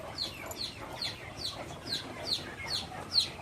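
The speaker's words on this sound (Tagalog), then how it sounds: "Doon si Arnek nagpapakain ng manok" Rhode Island Red chickens cluck at feeding time on a farm, repeated short clucks in a regular rhythm at moderate distance, fairly quiet, with no voices over them.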